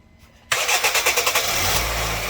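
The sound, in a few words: car engine starting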